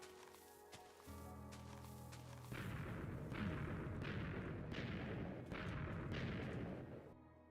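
Explosions detonating in Minecraft, a quiet rumble building into a sustained series of rolling blasts that pulse several times before cutting off, faint and distant in the mix.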